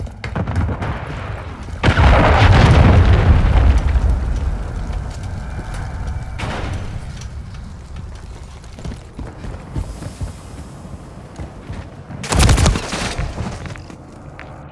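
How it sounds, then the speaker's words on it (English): Heavy explosions from a cruise missile strike in Call of Duty: a loud deep boom that rumbles for several seconds, quieter blasts and gunfire afterward, then a second sharp burst near the end. "Friendly cruise missile approaching target."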